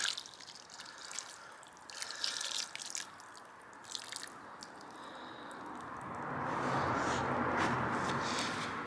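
Water is poured from a container into a potted water horsetail (Equisetum hyemale, rough Dutch rush), a close, soft splashing and trickling that builds into a steadier gushing pour.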